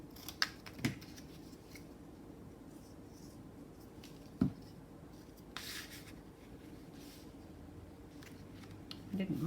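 Paper is cut with scissors for a junk journal, giving quiet snips and rustles with a couple of sharp taps in a calm room.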